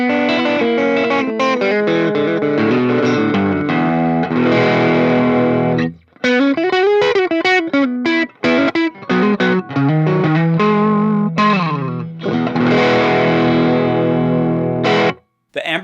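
An electric guitar runs through a Jackson Audio Golden Boy overdrive pedal with the gain at maximum, giving loud, dense, saturated chords and riffs with short single-note runs and brief pauses, played alone.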